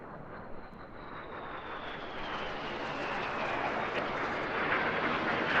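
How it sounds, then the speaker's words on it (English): A display team jet flies past at an airshow, a broad distant roar that slowly grows louder and carries a faint falling whine as it passes. "Each aircraft rolls the correct way up to pass in the middle to complete the maneuver called"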